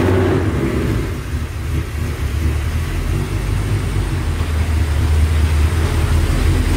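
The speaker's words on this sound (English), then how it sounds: "this was our first time starting the car, taking it out, and ripping on it." Ford Mustang with bolt-ons and a 93 tune, first start after the build, its engine rumbling loud and close, with a deep steady idle and throttle swells.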